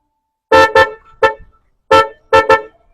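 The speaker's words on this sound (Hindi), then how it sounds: "तो अभी हम लोग गाड़ी का हम आपको हॉर्न चेक कराते हैं।" Car horn operated remotely from a mobile phone, sounding in short loud honks: a quick double toot, a single honk, then another double toot, close and clear.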